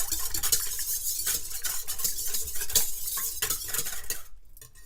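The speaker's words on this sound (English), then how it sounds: "So we're going to whisk these and break them up." Eggs are whisked in a bowl with rapid, steady rhythmic clicking and sloshing strokes, close and clear, stopping abruptly near the end.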